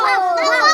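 A voice imitates a dog with a short, tonal howling bark, one drawn-out wavering call lasting under a second, close and fairly loud.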